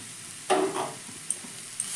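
Drained carrots and potatoes dropped into a hot oiled pan and stirred, a soft steady sizzle with a brief louder burst as they go in, followed by a couple of light scrapes.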